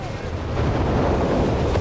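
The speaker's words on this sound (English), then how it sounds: "Massive incendiary barrages off here." Incendiary artillery barrages in the Company of Heroes 3 strategy game, a dense rumbling wash of booming impacts and crackling fire rolling steadily and loudly, with faint voice underneath.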